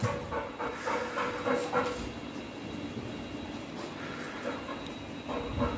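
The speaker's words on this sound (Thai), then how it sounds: "ตอนนี้หอบครับ" A pregnant American Bully dog close to giving birth pants heavily and rapidly, a steady close panting that continues throughout over a constant background hum.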